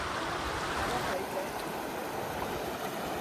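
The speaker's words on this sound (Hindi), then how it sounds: "देखो पानी कैसे खींच रहा है।" The strong current of the Narmada river rushes in a steady, close, broadband wash of flowing water with no clear breaks.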